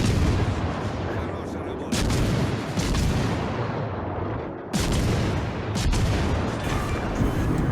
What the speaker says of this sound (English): one of the torpedoes we sent earlier hits the enemy Yamato and she is gone